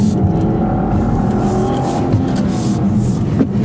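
A 2015 Volvo V60 T6 at full throttle, heard from inside the car: a loud, sustained engine roar with rising harmonics and steady road noise, and no voices.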